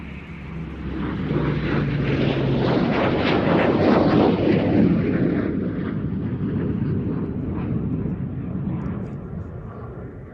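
An OV-10 Bronco twin-turboprop makes a low approach at an air display, its loud broadband engine and propeller roar swelling to a peak and holding steady as it passes nearby, with a brief radio voice underneath.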